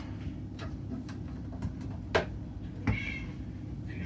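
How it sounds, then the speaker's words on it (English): A whiny house cat meows a couple of times in the background of a room during a GE washer door lock repair, its short calls faint and brief over low steady hum. "Excuse my whiny cat in the background."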